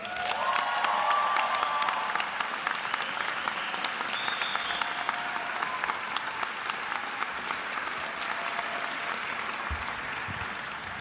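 A graduation audience gives loud, sustained applause as the valedictorian is welcomed at the 2023 ceremony. The dense clapping fills the room for about eleven seconds, with a few faint cheers at the start.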